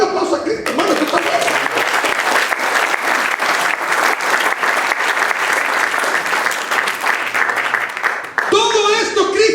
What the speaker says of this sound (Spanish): Dale un aplauso a Cristo, hermano, que está bien.